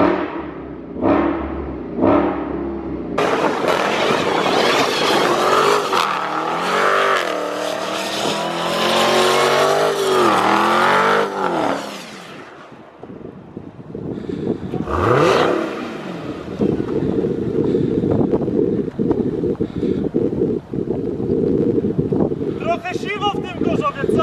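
Dodge Challenger Hellcat with a 707 hp engine revving inside a large hall, loud bursts and a long sustained roar echoing off the walls, with some talking in between.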